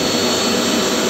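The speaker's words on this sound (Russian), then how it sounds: "воздух прямо дует туда, где песок собирается" Compressed air blows in a steady, loud, unbroken hiss inside a homemade sandblasting cabinet, close and constant, with no other sound.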